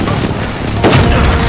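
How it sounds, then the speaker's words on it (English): An airstrike in Call of Duty Modern Warfare lands as a loud, close boom that swells over a rumbling, crackling wash of battle noise, with no speech. "Get indoors, get indoors, there's airstrike."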